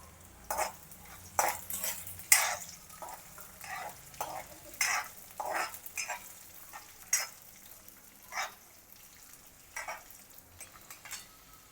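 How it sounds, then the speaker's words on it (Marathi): Raw peanuts frying in a pan while a spoon stirs them, sharp scraping strokes and clatters repeating every second or so over a soft steady sizzle, close and alone. "आता आपण यामध्ये शेंगदाणे घालूयात, कारण हे कच्चे शेंगदाणे आहेत, आपल्याला भाजून घ्यायचे आहेत."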